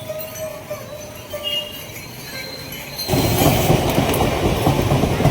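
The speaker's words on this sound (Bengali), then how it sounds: "রেলগেটটা পড়ে গেছে আর ট্রেন যাচ্ছে এখন।" A train rolls past a lowered railway level-crossing gate near Singur, on the road to Tarakeswar; a low background hum gives way to a loud, close, steady rumble of passing wagons for the second half.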